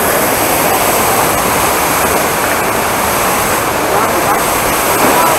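Honey Waterfalls near Kislovodsk pour down in a loud, continuous broadband roar of falling water and spray, heard up close and steady without a break.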